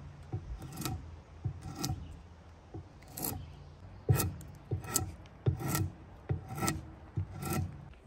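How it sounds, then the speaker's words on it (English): Bark being peeled off a log with hand tools while preparing a 3.5-inch log tenon: repeated rasping, scraping strokes at a steady, uneven rhythm, close and moderately loud, with no talking. "Start peeling your log."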